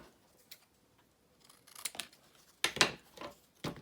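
Scissors snipping a sentiment strip from a card, a few sharp close cuts separated by pauses, with a quick run of snips toward the end.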